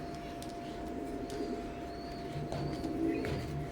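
Oman bloodline teddy pigeons coo softly and intermittently at close range against a steady background hum, with no talking.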